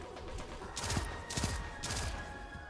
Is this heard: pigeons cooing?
no